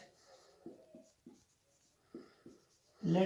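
Chalk writes on a classroom board during a maths lesson on linear equations: a few short, close taps and strokes in an uneven rhythm, ending with a louder burst of sound.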